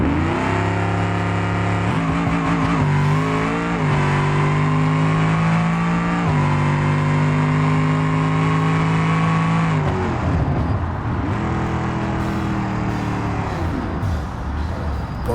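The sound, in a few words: drag car engine revving and accelerating down the strip, BeamNG video game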